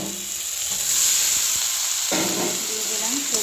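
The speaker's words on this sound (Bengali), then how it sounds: "এবার সবজিগুলি দিয়ে নেড়ে নেব।" Mixed vegetables are stirred into masala frying in oil for labra, with a loud, steady sizzle and bursts of scraping from the stirring.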